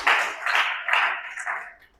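A church congregation applauds during a Good Friday sermon, a steady wash of clapping in uneven swells that fades toward the end, with no voices over it.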